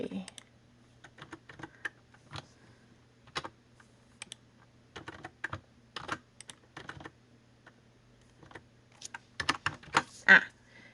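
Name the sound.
typing on a computer keyboard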